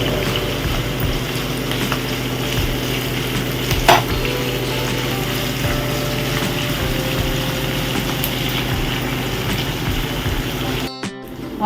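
Onions frying in a pan for chicken biryani give a steady, continuous sizzle at close range, with one brief louder clatter partway through and no talk.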